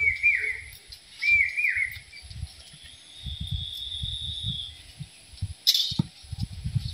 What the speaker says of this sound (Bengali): কি সুন্দর পাখি ডাকতেছে